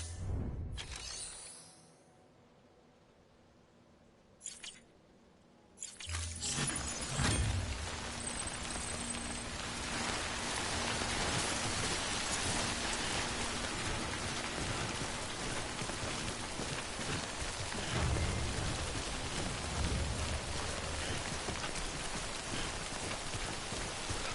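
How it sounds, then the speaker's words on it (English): Steady rain falling outdoors, a dense continuous patter that starts after a few seconds of near quiet and keeps on evenly with some louder swells, no voices over it. "It's raining on my head, raining on my head."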